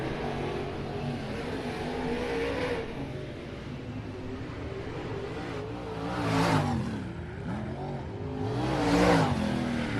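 A race car in an XR Series support class at Mountain View Raceway comes by to take the green flag, its engine rising in two fairly distant swells under a faint track ambience.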